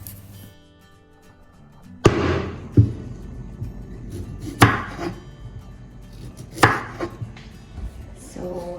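Ivy gourds cut lengthwise with a knife on a board: four sharp, close chops spaced a couple of seconds apart, each with a brief crunchy tail, over a quiet background.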